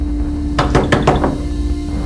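Four or five firm knocks on a wooden door in quick succession, close and loud against a steady low hum, then stillness.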